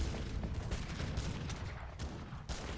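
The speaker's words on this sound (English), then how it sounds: "These mortars will be shredding every building right now, as long as the Janissaries protect them." Mortar fire in the video game Age of Empires, a rumbling barrage of overlapping booms and impacts at moderate volume, continuous across the whole stretch with a few sharper hits standing out.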